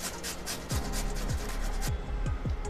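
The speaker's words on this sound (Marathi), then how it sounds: "ही काकडी मस्तपैकी अशी किसून घ्यायची आहे" Cucumber with its peel left on rubbed against a hand grater, several rhythmic rasping strokes close up, each a short scraping sweep, with no speech.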